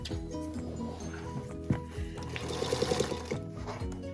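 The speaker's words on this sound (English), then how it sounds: "this will sound like a rat-a-tat-tat, pew-pew, because it's a heavy-duty machine." A heavy-duty 1948 sewing machine whirs and clatters steadily while stitching a rag quilt over seams, with a rapid rat-a-tat burst of stitching near the end, close and fairly loud.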